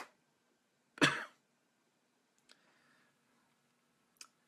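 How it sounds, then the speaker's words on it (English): A man with a lingering cough gives one short, sharp throat-clearing cough close to the mic during a quiet solder repair of NES cartridges, followed by faint clicks and small handling ticks. "I have this cough that just will not leave"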